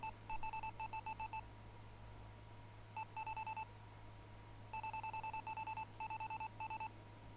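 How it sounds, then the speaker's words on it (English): Rapid electronic beeping from a video game in quick bursts of four, repeating in groups with short pauses, like an alarm clock, over a low steady hum. "Beeping is annoying."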